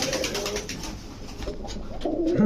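Soft pigeon coos rumble beneath a busy, noisy background, with a louder low cooing burst near the end.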